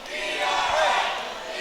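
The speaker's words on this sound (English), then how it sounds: "Now the crowd getting behind ERA." A wrestling crowd cheering for a wrestler at a CCW Bash at the Brew event, a sustained roar of many voices swelling and holding, with commentary voices in the mix.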